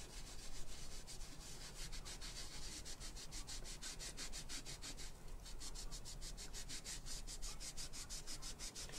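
A wet sponge rubs paint across a mixed media sea picture, giving quick, rhythmic scrubbing strokes that repeat steadily and close by at a soft, even level.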